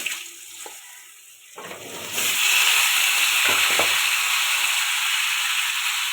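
Potatoes sauté in hot oil with bay leaf and five-spice tempering for a Bengali fish curry, starting with faint clinks and stirring before a loud, steady sizzle bursts in and holds to the end.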